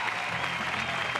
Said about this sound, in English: Nice round of applause from the Beaver fans.